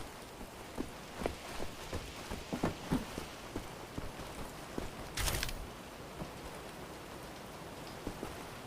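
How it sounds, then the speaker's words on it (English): Rain falling inside a toilet room in Wolfenstein, soft scattered drips and patters at low level with one brief louder splash midway, no voices. "Why is it raining inside the toilet?"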